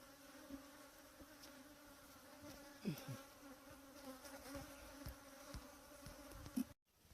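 Faint, steady insect buzzing hums throughout at a honey harvest in western Cameroon, with a few brief louder passes as individual bees fly close by.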